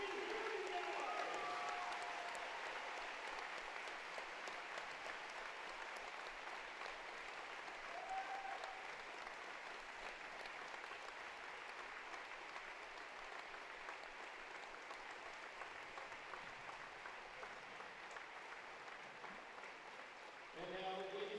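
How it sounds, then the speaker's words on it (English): Crowd applause in a high school gymnasium before a girls' basketball game, a sustained wash of clapping and cheering lasting about twenty seconds at an even level, with a brief whistle-like tone early on. "let's give him a big round of applause up here."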